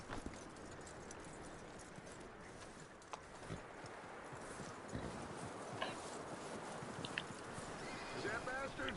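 A horse in a Western setting whinnies while its hooves clip-clop steadily, fairly close, over a busy outdoor ambience. People talk over the animal sounds throughout.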